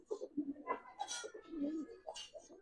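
Pigeons cooing, a pair of Giribaz flying pigeons, with several soft, throaty coos rising and falling close by, interleaved with light rustling.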